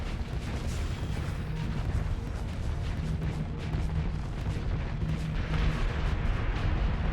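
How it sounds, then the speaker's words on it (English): Massive capital-ship explosion in the space combat game Starsector, a continuous loud rumbling roar with layered booming bursts throughout, dense and sustained with no talking. "Now that's an explosion!"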